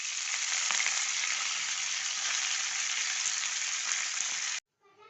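Washed fenugreek leaves fry in a hot tempering of oil, a loud, dense, steady sizzle heard up close and alone, cutting off abruptly near the end.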